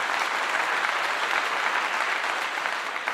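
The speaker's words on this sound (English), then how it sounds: "I'm going to clap again." Dense, steady hand clapping that sounds like applause, continuous and even for the whole short stretch with no talking over it.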